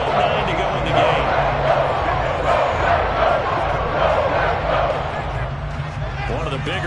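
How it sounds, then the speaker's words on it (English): A football stadium crowd roars steadily during a Bears versus Packers video game broadcast, building ahead of a big third down, with a commentator's voice running over the dense cheering. "The crowd getting into it as we come up on a big third down."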